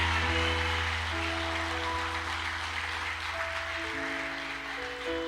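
A church congregation claps in praise during a sermon, a steady wash of hand claps running under sustained keyboard or organ chords for several seconds.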